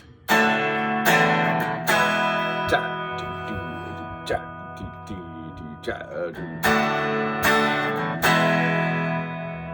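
Electric guitar chords from an early rock and roll song strummed in a simple rhythm, ringing out between strokes, with a few single picked notes in the middle; no talking.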